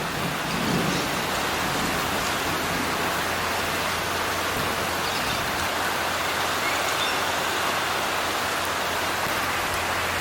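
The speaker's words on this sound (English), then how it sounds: "It is currently thunderstorming here." A heavy thunderstorm with steady, loud rain pouring down as a dense, continuous wash, with a low rumble of thunder beneath, outdoors with no voices.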